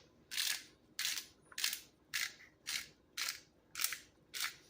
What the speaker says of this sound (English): So I'm going to go ahead and add some pepper, just ground black pepper. Just take the grinder.